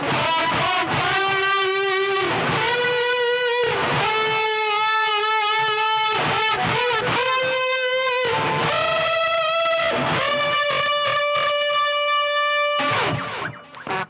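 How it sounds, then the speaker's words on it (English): A distorted electric guitar plays a rock solo phrase in D Mixolydian full of unison bends, with sustained, gritty, wailing notes over a dense continuous tone, loud and close, fading at the end, with no voices. "here's that whole first phrase now with all of these unison bends"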